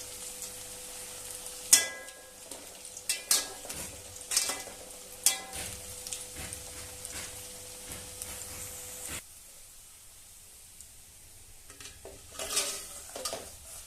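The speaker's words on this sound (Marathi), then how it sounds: "चांगल्या वड्या तळून घ्यायच्या आहेत." Aluvadi, rolled colocasia leaves, deep frying in hot oil with a steady close sizzle, broken by several sharp clinks and stirring scrapes of a utensil against the pan; the sizzle drops away partway through, leaving quieter, sparser clatter.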